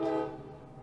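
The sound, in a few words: passing train interrupting podcast recording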